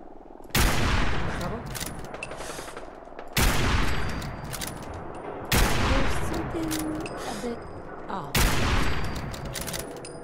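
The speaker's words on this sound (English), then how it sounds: "there's a lot of shooting going on" Gunfire in the video game Fallout 4 on survival difficulty: four loud bursts of rapid shooting, each decaying into echoing battle noise before the next begins.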